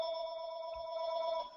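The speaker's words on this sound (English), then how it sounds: "I don't know whether you can hear my phone ringing in the background." A mobile phone rings in the background in a steady electronic ring, a fairly quiet tone that runs continuously and cuts off just before the end.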